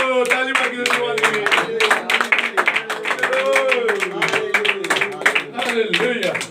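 A congregation at a church meeting in Koderma claps along in rhythm while a voice sings or preaches loudly over the hands, the claps coming in dense, uneven bursts throughout.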